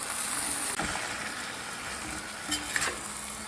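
Onions frying and being stirred in a pan while tomato gojju is cooked, a steady sizzle running throughout with a few soft scraping stirs, moderately close and with no voices.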